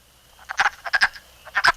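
Male wood frogs calling from a woodland pool, short raspy clucking croaks in quick clustered bursts, several overlapping, moderately close, no voices.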